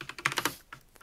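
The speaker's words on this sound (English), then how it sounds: "Who's beating the shit out of their keyboard?" Hard, forceful typing on a computer keyboard, a quick run of loud clattering keystrokes followed by a few scattered lighter taps.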